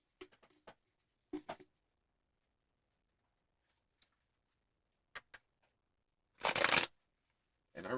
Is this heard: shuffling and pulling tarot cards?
yes